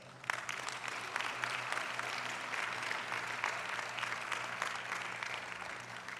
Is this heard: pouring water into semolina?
no